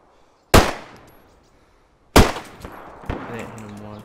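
Two loud, sharp gunshots from the DayZ video game crack close by about a second and a half apart, each ringing out into a short decaying tail, followed by a fainter thud and a brief burst of speech.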